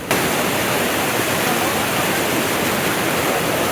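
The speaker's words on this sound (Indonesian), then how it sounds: "Banjir bandang lereng Gunung Argopuro, Bondowoso, Jawa Timur menerjang permukiman pada Kamis petang kemarin." Flash flood water from the slopes of Mount Argopuro rushes through a village in Bondowoso, East Java, a loud, constant, dense roar with no breaks.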